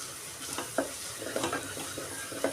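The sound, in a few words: mixing chicken with chili powder in a pan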